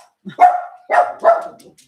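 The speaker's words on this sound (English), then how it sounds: "She might just be barking" A dog barks three times in quick succession, close and loud, with sharp clear barks separated by brief pauses.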